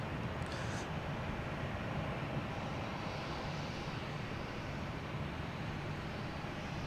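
A Cape Air Cessna 402 twin-engine plane taking off passes overhead at Boston Logan Airport, its steady, fairly loud engine drone holding evenly throughout with a low, rumbling roar and no voices over it.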